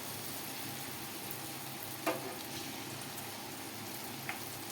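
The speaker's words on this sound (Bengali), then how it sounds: "এবার এই তেলের মধ্যে বাকি চিকেনের টুকরোগুলো আমরা ভালো করে দিয়ে ভেজে নেবো" Chicken pieces deep-frying in plenty of oil, a soft steady sizzle and crackle with a couple of brief sharper pops, no talking.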